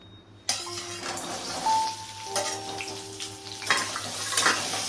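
Peeled potatoes, marinated with turmeric, go into hot oil with a sudden loud sizzle that settles into steady frying, with occasional clinks of a utensil against the pan.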